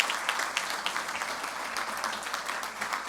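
Studio audience applause for a television show's team during an anniversary broadcast, a dense even wash of clapping at moderate distance, continuous and without speech.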